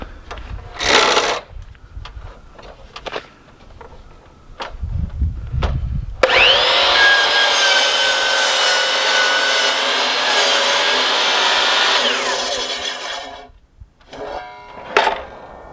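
A power saw cuts through a wooden workbench post to length, a loud sustained whine of about six seconds after a few brief handling knocks, with the tone falling away as the blade spins down.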